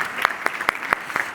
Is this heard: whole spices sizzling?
no